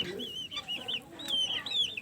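Chickens clucking close by beneath a chicken coop used for raising earthworms, with repeated short calls and squawks over a steady background of rustling farm noise.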